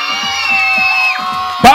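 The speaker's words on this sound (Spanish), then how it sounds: "¡Para Margarita, el grito!" Crowd at a Panasonic picnic fiesta show shouting and whooping for a performer, a sustained mix of voices with a sharp loud burst near the end.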